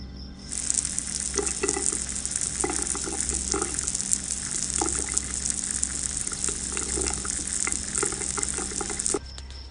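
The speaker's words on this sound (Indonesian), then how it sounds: "keran itu kembali menyala." A kitchen water tap runs steadily for nearly ten seconds with a broad, even gush, starting and stopping abruptly, with faint clinks and movement over the flow.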